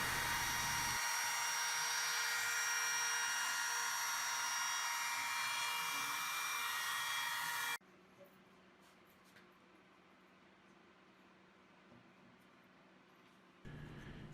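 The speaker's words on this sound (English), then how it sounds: "I'm going to take my router with the 1/8 inch radius roundover bit again and kind of ease all of the edges" A woodworking router fitted with a 1/8 inch radius roundover bit eases wood edges, a loud high steady whine that cuts off abruptly midway, leaving quiet room noise before the motor starts again.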